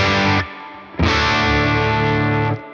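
Electric guitar through a Tone King Imperial preamp pedal in IRX mode, with the pedal's reverb: a short chord that cuts off, then a loud sustained chord ringing for over a second before stopping, with no talking.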